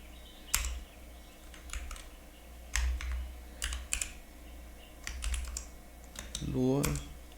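Short bursts of typing on a computer keyboard while editing Neovim config, clusters of close clicks separated by pauses, with a brief voice near the end.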